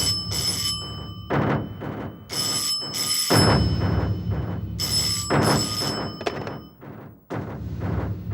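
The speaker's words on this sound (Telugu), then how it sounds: "ఏంట్రా ఫోన్ రింగ్ అవుతుంది" A telephone rings in repeated bright bursts with gaps between them, close and clear, with a few dull thumps in between.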